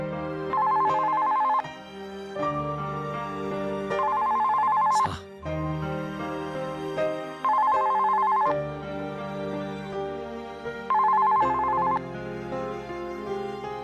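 A telephone rings in a Japanese otome visual novel, repeating bursts of electronic ringing in a steady pattern, loud and close, with no talking over it.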